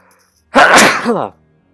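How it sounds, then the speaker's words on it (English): A single loud sneeze, sharp and close, with a quick breathy intake before it and quiet around it. "I might sneeze."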